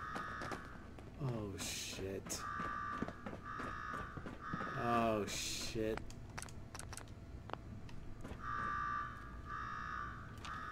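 A repeating electronic alarm blares in Fallout 4's Nuka World, sounding in steady on-off bursts with loud gunfire-like bangs and game effects, while players talk and exclaim over it.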